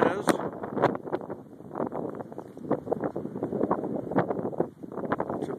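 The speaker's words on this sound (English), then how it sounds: "Just a windy day up in the Marianas." Wind blowing at about 20 miles an hour on a 39-degree gusty day in the Marianas, a rough low rumble and buffeting on the microphone, heard under someone talking throughout.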